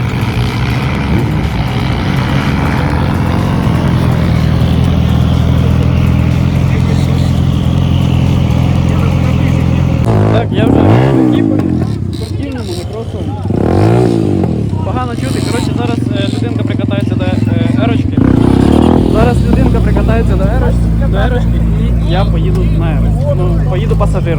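Motorcycles at a 2025 season-closing ride, including a sport bike doing about 110, drone steadily throughout with a couple of swelling passes midway. Voices talk over the engine noise.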